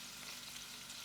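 Steak bites fry in garlic butter in a pan, a steady soft crackling sizzle heard alone throughout.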